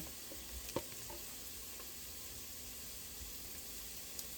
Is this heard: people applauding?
no